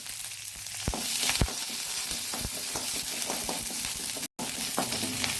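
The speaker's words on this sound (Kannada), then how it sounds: "ಒಗ್ಗರಣೆ ರೆಡಿ ಆಗುವಾಗ" Hot oil sizzles steadily up close, broken by sharp crackling pops of mustard seeds spattering at irregular intervals; no voices.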